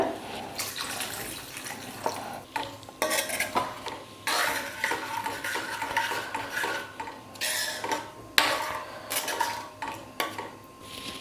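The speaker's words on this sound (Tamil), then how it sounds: "நல்லா கொதிக்கட்டும் பாருங்கள் நல்லா கொதிச்சிடுச்சு" A spoon scrapes and clinks repeatedly against a pot of boiling chickpea gravy while it bubbles underneath, in an uneven stirring rhythm with no talking.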